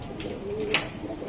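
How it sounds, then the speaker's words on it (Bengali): A female Budapest pigeon coos softly at close range, a low murmuring call set against a busy background with a brief sharp click near the middle. "এটা মাদি কবুতর।"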